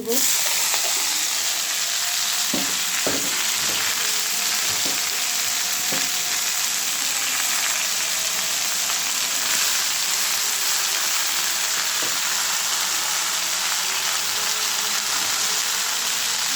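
Garlic fries in a hot pan as the base for a Tatkini fish curry, giving a steady, close, crackling sizzle that runs unbroken, with occasional sharper pops and clicks and no voices.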